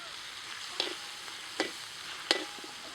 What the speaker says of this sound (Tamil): இப்போ வந்து இந்த தக்காளி கொஞ்சம் போட்டுக்கலாம்பா.